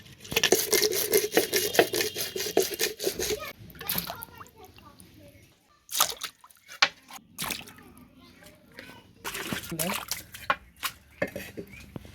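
Katla fish being rinsed under a tap, with water splashing and dripping in bursts, interrupted by short pauses and handling sounds, while someone talks nearby.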